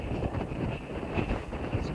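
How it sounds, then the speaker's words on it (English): Steady wind gusting outdoors in Ratagan Forest, with a digger parked nearby, forming a continuous close rushing buffet against the microphone for the whole stretch. "It's kind of windy today,"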